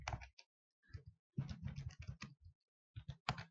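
Keys tapped on a computer keyboard in a Linux terminal, heard as a few soft, scattered clicks in bursts across a quiet background.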